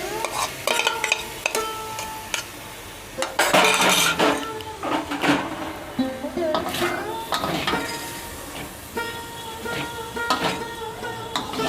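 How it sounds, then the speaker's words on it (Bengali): A spatula scrapes and knocks rhythmically around a pan as boiled figs are tossed with potatoes and poppy-seed paste, a soft sizzle running beneath the clatter and no voices. "এবারে ডুমুরটা দিয়ে দিলাম, সিদ্ধ করা ডুমুরটা দিয়ে দিলাম।"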